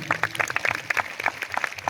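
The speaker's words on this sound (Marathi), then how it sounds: "टाळ्या वाजून त्यांचं अभिनंदन करूया" An audience at a Shrimad Bhagavat Katha gathering claps together in congratulation, a quick run of many overlapping, close hand claps with a rough rhythm.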